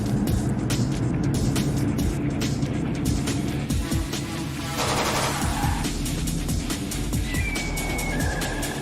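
Rapid bursts of police gunfire in a low-budget Christian film scene, dense cracking shots packed tightly over a steady roar of car engine and other movie sound, loud throughout.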